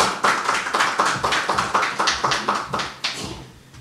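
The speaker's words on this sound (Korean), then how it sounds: "여러분 박수로 맞이해 주십시오." A church congregation at a missionary sending service claps in steady unison, about a dozen sharp, evenly spaced claps that ring close and loud, then taper off at the end.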